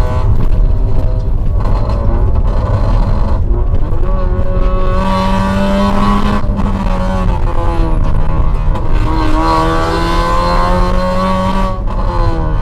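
A loud, deep car exhaust rumbles and roars as the engine revs repeatedly with its remote-controlled exhaust valve switched open, pitch rising and falling in several surges, close and continuous.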